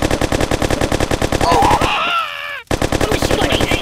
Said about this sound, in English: The machine gun ain't angry!